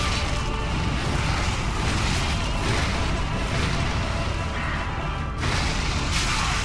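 A boss's fireball explosion in Dark Souls 3 roars as a dense, continuous rumble with crashing debris, loud and sustained throughout, briefly dipping near the end before surging again; no talk over it.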